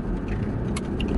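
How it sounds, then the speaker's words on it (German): Inside a moving car: a steady low road and engine rumble fills the cabin, with a couple of faint light clicks or rattles on top and no talking. "Ich bin jetzt im Auto, fahre mit Felix Auto wieder"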